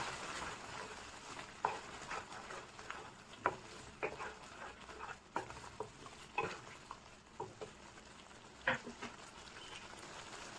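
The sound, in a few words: mixing cream into paneer lababdar gravy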